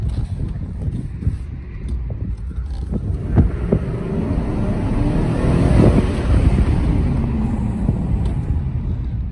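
A 2019 Chevrolet Silverado 1500 Custom pickup drives with its windows down, a low steady engine and road rumble mixed with buffeting wind noise that swells slightly, heard from inside the cab with no talking.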